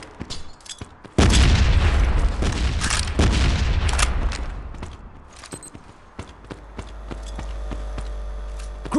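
Grenade blast in the shooter game Modern Ops on the Bomb Factory map: a sudden loud boom that rolls on for a few seconds, with scattered crackling debris and faint gunfire, then a low lingering rumble.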